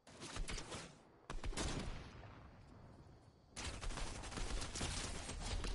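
Gunfire erupts in a Fortnite battle, rapid bursts of shots that pause briefly and then resume in a dense, sustained volley, loud and close.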